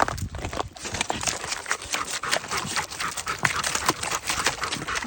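Golden retriever or Newfoundland dog splashing and playing in water nearby, a busy stream of sloshing, dripping and broadband splash bursts with occasional sharper slaps, fairly loud and continuous, no talking.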